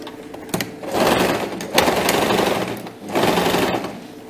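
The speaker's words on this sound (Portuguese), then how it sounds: "Overlock é muito bom." Overlock sewing machine running while stitching a skirt, a loud steady motor whir with rapid stitching in bursts separated by short pauses.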